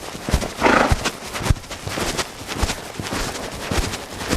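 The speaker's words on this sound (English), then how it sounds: "He's got a real nice lope to him." A horse lopes in a circle under a rider, its hooves thudding in a steady, uneven rhythm with a brief breathy snort near the start.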